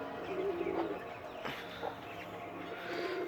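A pigeon coos softly a few times in a quiet outdoor setting, faint and fairly close, with some low background noise.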